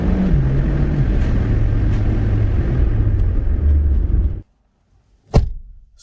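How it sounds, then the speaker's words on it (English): A car door shuts with a single solid thud right after the engine rumble cuts out, in an Aldi supermarket car park. "Such a good door close sound that is."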